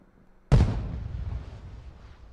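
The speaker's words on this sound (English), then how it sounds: "I can hear the fireworks." A firework goes off outside with a single loud, deep boom that rolls into a long fading rumble and crackle.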